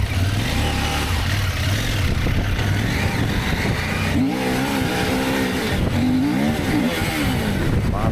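A CF Moto 800MT adventure motorcycle is ridden on sand, its engine droning loud and close, then revving in rising and falling surges through repeated throttle blips.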